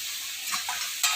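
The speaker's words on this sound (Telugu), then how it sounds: "అవి అయితే ఆనియన్ అయితే మంచిగా వేగుతుందండి" Chopped onions frying with salt in a pan for a prawn curry, a bright close sizzle with brief stirring scrapes and a louder crackle burst near the end, no voices.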